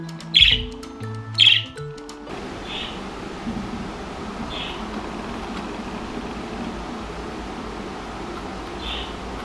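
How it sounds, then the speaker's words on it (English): A parakeet and a cockatiel chirp: a couple of sharp chirps up front, then softer, distant calls at spaced intervals with pauses between them over a steady hiss. "they've been kind of chirping and calling, and one will chirp and then there'll be a pause"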